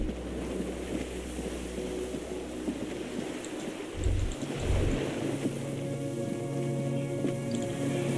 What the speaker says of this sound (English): The distant sound of cargo ships' signal horns echo on the water.